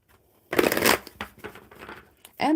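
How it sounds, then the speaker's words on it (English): A deck of playing cards is shuffled by hand at a table, with bursts of riffling and fluttering in quick succession, close and fairly loud, ending with a short voice. "All right, let me get these cards shuffled and get in order."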